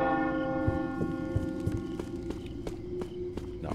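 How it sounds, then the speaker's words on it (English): A church bell in the stealth video game Thief tolls in a steady ringing tone, overlaid by repeated footstep thuds and clicks at a moderate distance. "That's the church bell."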